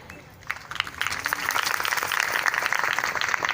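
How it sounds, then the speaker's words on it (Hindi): A crowd at a college annual function breaks into sustained, dense applause that swells after a brief quieter start and continues steadily. "जोरदार तालियां, इतने ऊर्जावान उद्बोधन के बाद जोरदार तालियां"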